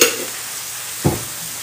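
Onion sauce sizzling in a pan, a steady soft hiss with one short scrape or bubble burst partway through, close and even.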